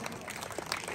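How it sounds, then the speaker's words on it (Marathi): Brief, faint audience applause at a lively housing-society Home Minister event in Wagholi, a soft patter of many hands clapping together. "जोरात टाळ्या"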